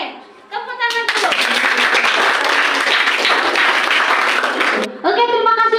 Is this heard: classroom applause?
yes